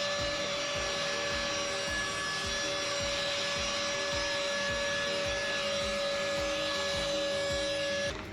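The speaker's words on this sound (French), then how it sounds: "du coup maintenant j'ai ce petit aspirateur" A small handheld car vacuum cleaner motor whirs steadily with a high tonal whine and faint rhythmic rattling, running continuously up close before cutting off at the end.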